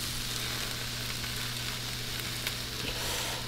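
Eggs fry in a pan with a soft, steady sizzle that holds evenly throughout, quiet and with no talking.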